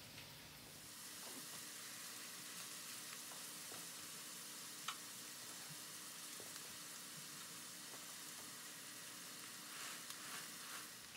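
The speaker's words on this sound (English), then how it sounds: "this is a half a head of the red cabbage. It's filled up my big skillet." Half a head of red cabbage sizzles in a big skillet that it fills, a faint, steady frying hiss with occasional soft crackles and light stirring taps.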